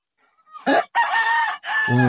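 A rooster crows loudly and close by, one long strained call broken into sections, ending on a lower drawn-out note.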